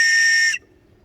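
A safety whistle on an inflatable life vest blows one loud, steady, shrill blast for about half a second, then cuts off abruptly into near silence.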